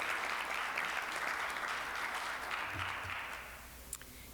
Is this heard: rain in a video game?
no